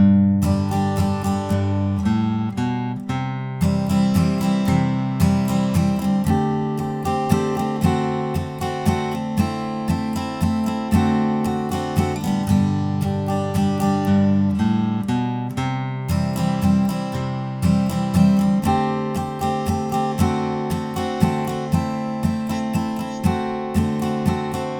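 A guitar strums the chorus of a song, steady rhythmic chord strokes ringing close and bright with no one speaking, after a brief pause near the start.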